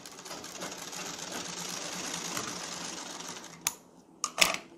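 A sewing machine stitching a kalidar kurta panel, running as a steady, fast mechanical whir for several seconds, then stopping, followed by a few sharp clicks and knocks near the end.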